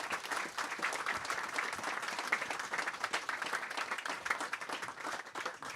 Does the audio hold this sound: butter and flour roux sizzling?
no